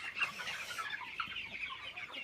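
Chickens in a home poultry flock cluck steadily and closely, a continuous busy chatter of several birds with no talking.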